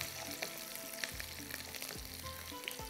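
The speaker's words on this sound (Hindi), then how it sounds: "हल्का सा इसको थोड़ा सा करते हैं ब्राउन, राई कड़ी पत्ता प्याज" Mustard seeds, curry leaves and onion frying in hot oil for a tarka, giving a soft, continuous sizzle with scattered crackling pops and a few light clinks, fairly quiet and without speech.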